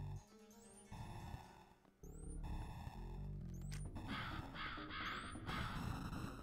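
In Shalnor Legends, fired crow projectiles let out a string of harsh caws over swelling game music and repeated sweeping whooshes, steady and dense throughout.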